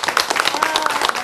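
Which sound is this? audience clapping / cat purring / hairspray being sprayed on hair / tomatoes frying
audience clapping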